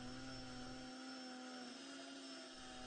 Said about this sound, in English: mount the cap to a drill and use a rat tail file